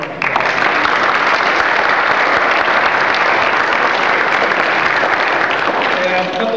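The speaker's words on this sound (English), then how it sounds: "Give them a round of applause." An audience at a children's AWANA awards event gives a loud, dense round of applause that runs unbroken from start to finish, close and strong, with no talk over it.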